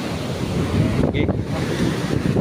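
Floodwater rushes outdoors as a loud, steady roar of churning water, with wind buffeting the microphone throughout.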